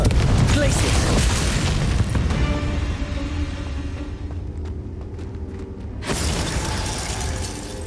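Booming spell blasts and shattering impacts from Bombarda and Confringo casts in Hogwarts Legacy on Nintendo Switch, loud and continuous with a brief lull before a renewed burst near the end.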